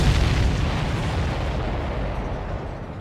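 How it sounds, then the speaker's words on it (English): A supply ship exploding in the Ace Combat 7 video game, a loud, deep rumbling boom that starts strong and slowly decays into a sustained roar. "Did you see that explosion?"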